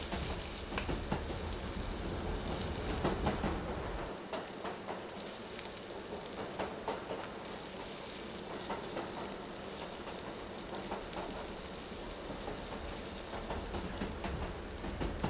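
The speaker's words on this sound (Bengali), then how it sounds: "এবারে এই আদা রসুনটাকে আরও 2-3 মিনিট মিডিয়াম ফ্লেমে ফ্রাই করতে হবে।" Ginger and garlic paste fries in a pan over a medium flame while a railway-style mutton curry is being made, giving a steady, dense sizzling hiss with soft crackles throughout and no voices.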